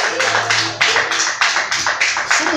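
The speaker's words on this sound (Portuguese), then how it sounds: "Você pode aplaudir ao Senhor?" Church congregation at a prayer service applauding the Lord, loud close rhythmic clapping in steady, pulsing bursts, with a faint voice briefly underneath at the start.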